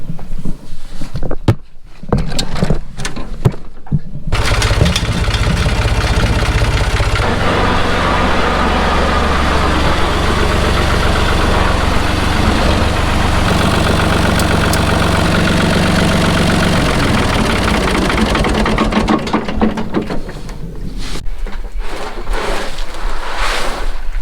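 A Kubota utility vehicle on a farm starts up and runs close by, a steady, loud mid-pitched engine drone with some knocking, preceded and followed by intermittent bumps and handling noises.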